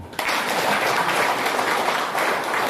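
Applause from a church worship audience starts abruptly and continues as a steady, moderately loud wash of clapping for under three seconds.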